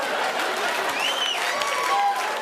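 An audience at a stand-up comedy show claps steadily throughout, a dense sustained wash of applause with a few brief whistles rising above the crowd.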